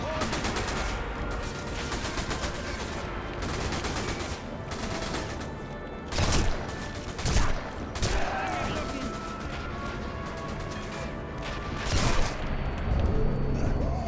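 Rapid bursts of gunfire from the Sniper Elite V2 Remastered video game, sustained automatic fire with several louder booming shots, continuous and fairly close throughout.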